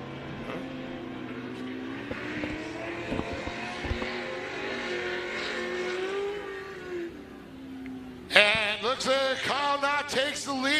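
Pro Lite short course race trucks racing at Glen Helen Raceway, several engines roaring and revving with rising and falling pitch as trucks pass, louder and sharper revving near the end.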